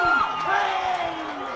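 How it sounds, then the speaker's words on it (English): Crowd at a high school baseball game between Riverton and Mountain Ridge cheering after a leadoff triple, a sustained roar of voices with an announcer talking over it. "The crowd here goes crazy as Zulo gets into a ball over the head of Cooper Goff"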